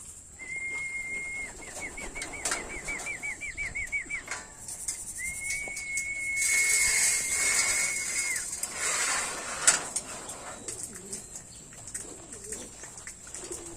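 Racing pigeons being fed in a training box, with repeated soft cooing and whistle-like calls over a steady hiss, and a louder rustling stretch in the middle.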